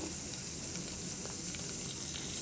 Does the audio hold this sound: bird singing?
no